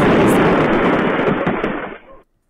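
Firework salute exploding outdoors at night: a loud, dense roaring burst with crackling pops that fills the whole stretch, then tails off and cuts out near the end.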